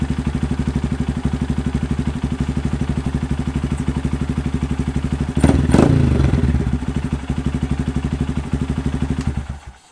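A 2025 Honda Grom motorcycle engine with a DHM Stage 2 cam idles loudly and steadily with a choppy, pulsing rhythm; a brief clatter and thump sound partway through before it cuts off.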